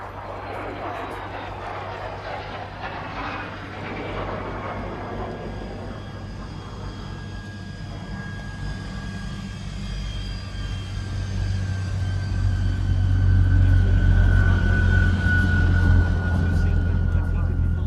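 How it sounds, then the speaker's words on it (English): MiG jet aircraft taxiing by at an airshow, its steady engine roar and rising whine swelling louder as it approaches and passes, with a broad rumbling drone throughout. "as the MiG actually starts to taxi by, just listen to the sound of this wonderful aircraft"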